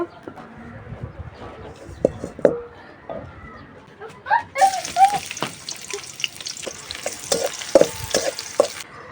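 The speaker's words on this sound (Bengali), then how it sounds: "এখন হচ্ছে ডালটা বাগার দিয়ে দিব" Dal being tempered: hot oil hits the pot midway with a sudden loud sizzling burst that keeps hissing, following softer stirring clatter and faint background sounds.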